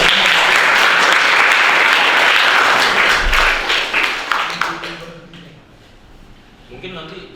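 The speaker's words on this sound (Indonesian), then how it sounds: "Mari kita berikan tepuk tangan." An audience at a WiFi signal-speed presentation breaks into loud, full applause that holds for about three seconds and then fades out, after which a few voices begin talking quietly.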